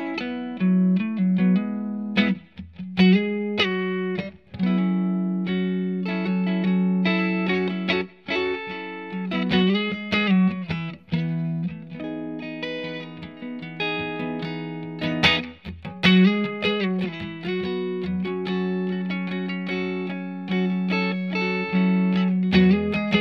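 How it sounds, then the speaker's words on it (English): A 1960 reissue relic Fender Stratocaster Custom Shop electric guitar in Fiesta Red plays through various effects, giving distorted, chorused riffs and sustained notes with short pauses between phrases, loud and close, with no talking. "now I'm going to play it and mess around with some different effects"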